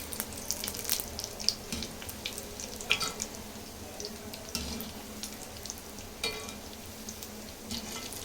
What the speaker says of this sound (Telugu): గులాబ్ జాములు వేసేసుకోవాలి ఫ్రై చేసుకోవాలండి రెడ్ కలర్లో